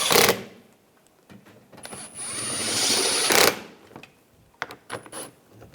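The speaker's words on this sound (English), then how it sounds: "get these screws in up front. Tighten them down." A power drill drives screws into the front bumper cover of a 2013-2016 Dodge Dart in short bursts. One sharp whir opens the clip, a longer whining run follows in the middle, and quiet handling noises fill the gaps.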